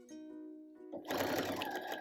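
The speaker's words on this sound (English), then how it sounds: "So now I'm just sewing on the solid line and use a little bit of a short stitch" A sewing machine hums briefly, pauses, then rattles into rapid, close stitching.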